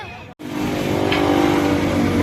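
Motor traffic on a village main road, a steady loud engine drone of vehicles passing close by that starts abruptly after a brief gap and continues without talk.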